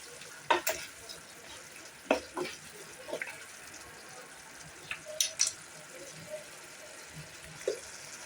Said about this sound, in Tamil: இப்போ அதனால் ஒரு 5 நிமிஷம் நல்லா கொதிக்க வைப்போம்.